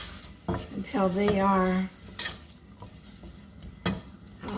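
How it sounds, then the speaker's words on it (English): Chopped vegetables sauté in a pan for chicken and yellow rice, a soft sizzle with clinks and scrapes of a utensil against the pan, heard close beneath a person talking. "I'm going to saute these up"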